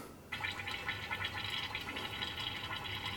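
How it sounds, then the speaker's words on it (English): Fluid bottle gurgling and trickling as flushing oil drains from it while filling a manual transmission or rear end, a faint, steady bubbling that runs on evenly without talk. "I'm just going to leave this until I hear it start gurgling."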